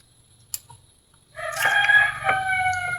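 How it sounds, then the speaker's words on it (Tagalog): A rooster crows once, loud and close, in a long, strongly pitched call that swells and holds for over a second after a brief click and quiet. "Manok."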